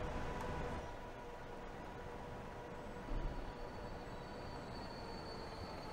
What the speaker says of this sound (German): Jetzt haben wir hier gerade viel los. Fast alle Züge sind da.